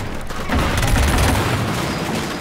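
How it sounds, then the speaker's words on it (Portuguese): Dense, loud bursts of gunfire from the video game Killzone Shadow Fall roar continuously, rapid overlapping shots with booming low rumble and no talking. "da onde tá vindo esse tiro?"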